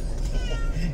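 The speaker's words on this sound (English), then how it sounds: "It's a cat." A house cat gives a single close meow, loud and drawn out, lasting about a second, with no speech.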